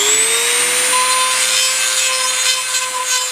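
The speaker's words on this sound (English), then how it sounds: "take my Dremel and widen it a little bit" A Dremel rotary tool fitted with sandpaper widens a hole, giving off a steady, close, high whine with a gritty rasping grind underneath that holds unbroken throughout.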